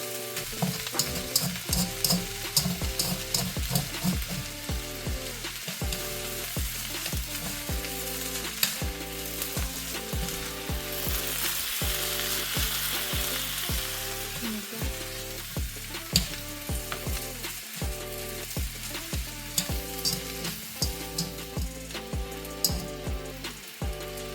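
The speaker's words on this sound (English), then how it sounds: "Don't forget to keep on moving the noodles so it doesn't burn." Chow mein noodles and vegetables stir-fry in a hot pan, giving a loud, continuous sizzle broken by regular scraping strokes as the food is kept moving. No one speaks.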